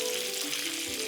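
Cooking wine and soy sauce poured into a hot pan, sizzling in a steady, close hiss without a break while Jiangxi rice noodles are being made.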